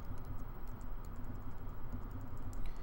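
Keys clack on a computer keyboard, including the bracket keys, in a quick irregular series of close, light taps.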